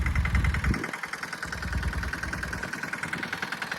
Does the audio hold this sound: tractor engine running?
yes